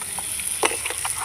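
Potatoes sizzle in a small pan over gas, a steady close crackle broken by a few louder spatters and soft stirring scrapes, with no talking.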